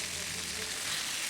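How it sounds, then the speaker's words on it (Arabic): Chicken pieces fry skin-side down in hot oil in a pan, giving a steady, close, loud sizzle with dense crackle that runs unbroken from start to finish. "يدوبك الزيت سخن معايا بقى نزلت عليها بالفراخ"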